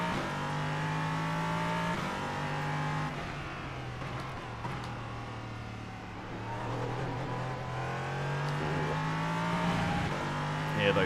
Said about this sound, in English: Hear those rear wheels spinning